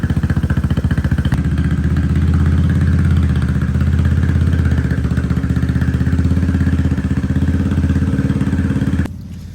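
A restored Maxxam 150 go-kart engine runs close and loud at a steady idle with a rough, rapid mechanical clatter, holding constant for about nine seconds before cutting off abruptly.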